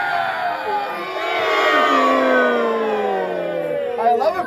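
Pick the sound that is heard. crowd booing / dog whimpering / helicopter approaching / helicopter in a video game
crowd booing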